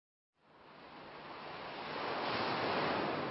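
Surf of the Sea of Okhotsk on the Pacific rolls in after a moment of silence, a broad steady rush of breaking waves that swells gradually louder and stays continuous.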